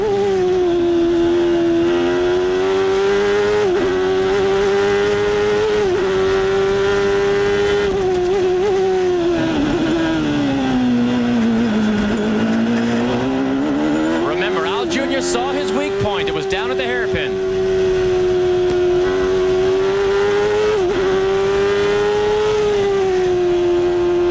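An onboard Indy car engine on Al Unser Jr's 1993 CART car at Laguna Seca, Chevrolet versus Ford, drones loud and continuous. Its pitch rises and falls through gear changes and dips low in a slow section, with commentary talking over it.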